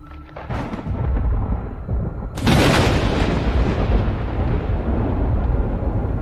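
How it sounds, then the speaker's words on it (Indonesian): Deep thunder rumbles across the sky, building from a low roll into a loud, sudden crack-like surge that keeps booming and rolling on without fading. "Suara guntur goib terdengar dari langit"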